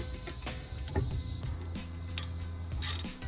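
Ratcheting and clicking of a wrench tightening brake caliper bolts on a 2017 Dodge Challenger SXT during a brake pad job, a few close mechanical clatters and clicks over a low steady hum.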